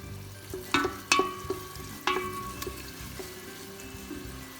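Steady sizzling of chopped garlic in olive oil in a hot pan, with a few sharp clinks of a utensil against it, near and moderately loud.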